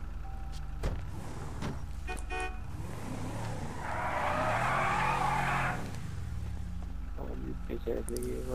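A big SUV is driven in GTA Online: engine drone continues throughout, with a loud tire squeal and skid swelling in the middle for about two seconds, and voices talking over it.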